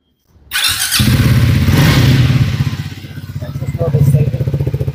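A Triumph Speed 400 motorcycle with a short aftermarket exhaust cable setup fires up and idles loud and close, its thumping single-cylinder beat steady with a brief rev swell near the end.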